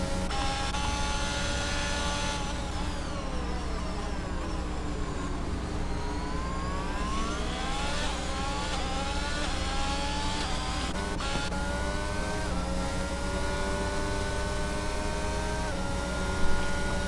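Formula 1 cars racing around Monaco in a racing game, a continuous high engine whine with pitch sweeping down and up as cars brake and accelerate, several engines overlapping, loud and constant.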